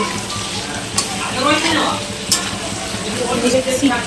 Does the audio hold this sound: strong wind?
no